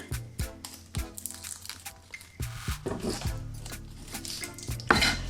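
Garlic being finely chopped with a knife on a cutting board, a series of close, sharp knife taps in an uneven rhythm with a few clattering knocks, no voices.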